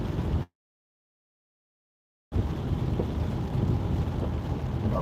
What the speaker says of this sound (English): this is proper chunks of ice hail